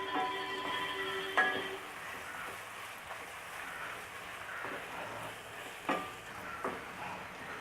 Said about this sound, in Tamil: ஸோ வெங்காயம் நல்லா வதங்கிருச்சு.